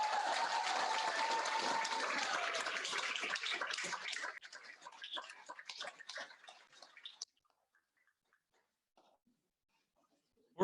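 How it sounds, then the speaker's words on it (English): Audience at a martial arts 4th dan black belt test applauds a candidate, loud sustained clapping that thins out and stops, leaving near silence. "Let's give him a big round of applause."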